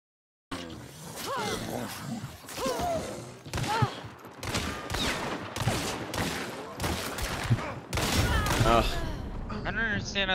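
Gunfire in the video game Hunt: Showdown on the DeSalle map, with rapid, dense volleys of shots crackling under and between excited voices talking over one another.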